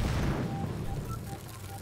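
A molotov cocktail bursting in the H1Z1 battle royale game, heard as a broad rumbling whoosh that is loudest at the start and then holds as a steady roaring noise without distinct impacts, with no talk over it.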